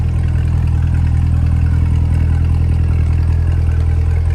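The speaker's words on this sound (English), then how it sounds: "listen to that exhaust" A 2025 Chevrolet Corvette E-Ray's 6.2L V8 hybrid idles with a steady, deep rumble, continuous and loud up close, a low throaty exhaust burble with no voices.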